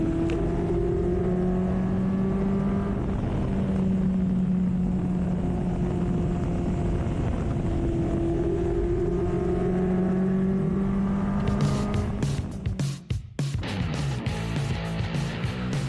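A Formula Vee race car's engine drones steadily at high revs in third gear while making a pass on track, its tone shifting near the end amid sharp clattering bursts.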